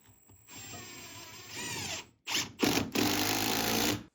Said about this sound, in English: we're going to drive these in, make sure we find those studs